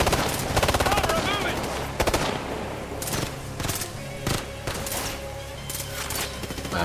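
Bursts of automatic gunfire and single shots crackle through a firefight in Tom Clancy's Ghost Recon, the volleys coming in irregular clusters at moderate loudness.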